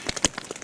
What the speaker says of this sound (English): pitter-patter of the rain